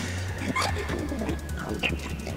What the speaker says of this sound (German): Da ist das hübsche Vögelchen